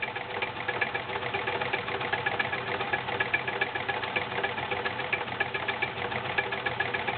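A vintage 1980s Kenmore convertible sewing machine runs a stretch stitch with a steady, fast mechanical chatter and knock, continuous and fairly close throughout, with no talking.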